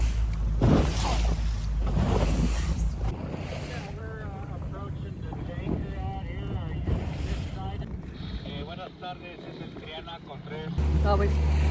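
A small boat motors over choppy sea with 3 to 4 foot waves, a steady low engine drone under heavy wind buffeting and splashing, while people talk over the noise.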